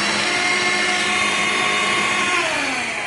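Hoover Air Cordless 20-volt lithium-ion 2-in-1 stick vacuum cleaner running close up, a loud steady whirring motor hum with a slight pitch drop near the end.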